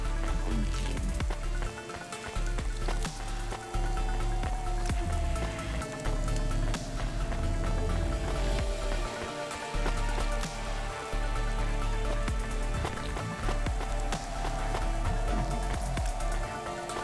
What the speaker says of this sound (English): It never stops raining in the world of Cloudpunk.